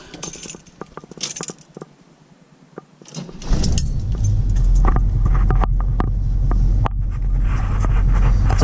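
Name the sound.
1976 Camaro small block 350 engine starting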